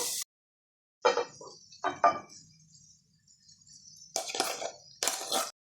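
Spoon or spatula working rice and vegetables in a pan for fried rice with purple cabbage, giving scattered clinking and scraping bursts in short groups with quiet gaps between.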